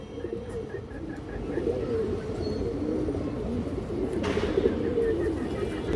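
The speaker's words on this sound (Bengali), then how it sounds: "মাশাল্লাহ খুব সুন্দর কৌতর এই দেখেন সাইজ বড় আছে অনেক সুন্দর একটা কৌতর" A large pigeon coos softly and repeatedly among other pigeons at a pigeon sale, with a low, steady murmur of background noise running underneath.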